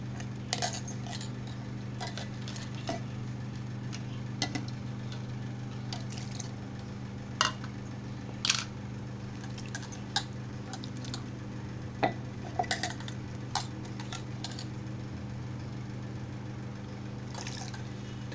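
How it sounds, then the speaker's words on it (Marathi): Ground crab claws mixed with water are strained through a sieve, giving soft scattered drips, squishes and clicks over a steady low hum, close and fairly quiet. "आता आपण गाळणीने गाळून घेऊया।"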